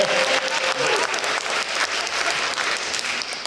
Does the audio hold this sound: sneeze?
no